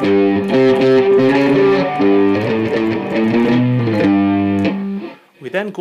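Distorted electric guitar plays a riff, a loud run of short repeated notes for several seconds before the playing stops and a brief, fainter burst of sound follows.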